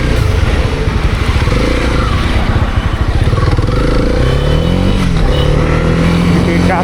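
A Honda CB300R motorcycle pulls away into city traffic, its engine droning loud and close with rising revs, a steady rumble joined by rattling and scraping noise over nearly seven seconds.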